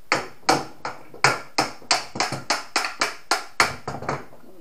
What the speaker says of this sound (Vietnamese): Để mình gỡ xuống đất cho gõ cho các bạn đây, cho nó dễ.